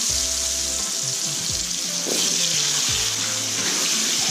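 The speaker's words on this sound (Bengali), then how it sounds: "এবার আমি ওই তেলের মধ্যেই তরকারির আলুগুলো ভেজে" Potato pieces fry in hot oil in the same pan used for paneer, a continuous hissing sizzle with bubbling crackle close up, steady throughout, with a few faint low clanks and no talking.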